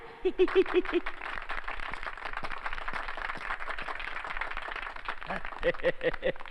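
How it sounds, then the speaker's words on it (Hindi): An audience at a stage show claps in a steady burst of applause lasting several seconds, with a voice heard briefly before and after the clapping. "तालियां।"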